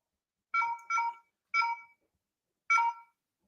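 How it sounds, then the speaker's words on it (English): A Chinese mobile phone's battery indicator chime going off unexpectedly: four short, clear electronic melodic beeps, three fairly quick then one after a pause, alone in silence and moderately quiet. "It shouldn't actually be really going off like that, because I have the battery indicator sound off"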